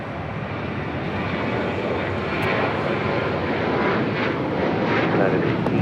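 An American Airlines 737-800 bound for Chicago O'Hare takes off from runway 25 right at LAX, a steady broad jet roar that swells slightly and holds throughout, with faint talk beneath it.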